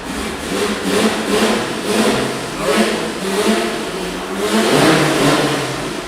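An EMPI air-cooled engine at an engine battle revs repeatedly in rising and falling surges, a steady mid-pitched roar swelling and easing in regular waves without pause.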